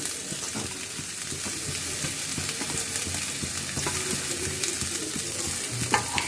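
Grated potatoes and carrots sauté with golden-brown onions in a pan, giving a loud, steady sizzle and frying crackle with faint stirring scrapes throughout.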